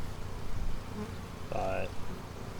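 Dense, continuous drone of honeybees buzzing around an open beehive, close and steady throughout, with a brief louder nearby wingbeat whine partway through.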